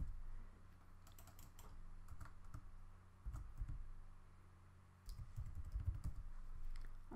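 Quiet keystrokes on a computer keyboard come in short bursts of typing with brief pauses between them, close and faint, with no voices.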